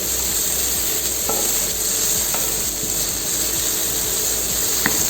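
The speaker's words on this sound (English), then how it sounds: "And saute well." Vegetables for spicy Thai-style noodles sautéing in a pan, a steady loud sizzle with faint intermittent clicks of stirring and a sharper knock near the end; no one speaks.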